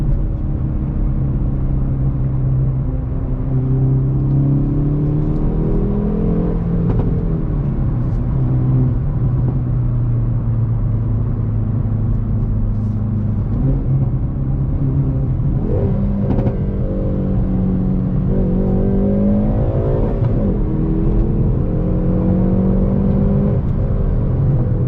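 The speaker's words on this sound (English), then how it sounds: "I think for a factory exhaust is fantastic. Get all the right noises." A 2020 Hyundai Veloster N Performance Package's factory exhaust growls and rises through the gears, pitch climbing and dropping with each shift, loud and close from inside the car.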